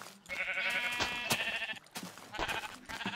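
A video-game sheep gives a few nasal, wavering bleats over game sound effects and clicks, loud and close, with no voices.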